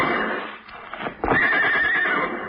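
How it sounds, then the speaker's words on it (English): Horses neighing in a classic radio adventure drama, a loud, close whinny that rises sharply partway through with faint hoof clatter, and no voices over it. "Horses. You got horses hidden back in the woods."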